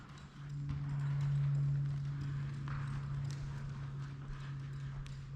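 A horse moves at a slow gait on a dusty arena, its hoof beats soft and regular at middle distance over a steady low hum.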